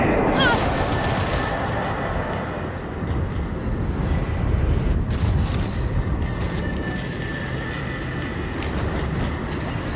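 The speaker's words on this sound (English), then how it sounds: "People are shooting at me." Bursts of gunfire and booming explosions from the video game Gat Out of Hell crackle and thud loudly and repeatedly, with sharp shots stacking over a dense rumbling battle backdrop.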